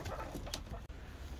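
Pigeons coo in low, throaty bursts while being fed grain, a few soft rolling calls close by with a brief gap near the end.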